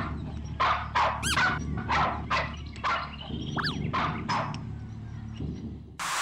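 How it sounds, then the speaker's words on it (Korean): A dog barks repeatedly in short, loud bursts at a steady rhythm, with a few higher yelps mixed in, over a constant low mechanical hum. "개소리가 나죠, 개소리가. 보면 개가 짖습니다."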